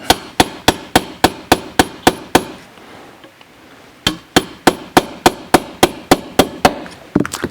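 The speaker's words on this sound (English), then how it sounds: "I'm going to use this hammer, and we're just tapping this out." A hammer taps a metal punch on a gun in quick, evenly spaced sharp strikes, a run of about eight, a short pause, then another steady run.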